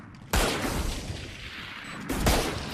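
Gunfire rings out in Valorant, two loud bursts of rapid shots separated by a short lull, close and sharp with no talking.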